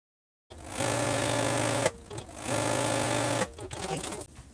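A sewing machine runs a quarter-inch seam on fabric pieces for a windmill tote bag, two loud close whirring runs separated by a brief pause and mechanical clicks, after a moment of silence.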